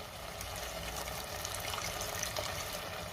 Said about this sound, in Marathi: आता आपल्याला यामध्ये पाणी घालायचंय